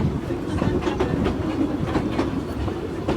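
A narrow gauge train runs along its rails with steady rumble and rhythmic clickety-clack of wheels over joints, loud and close throughout.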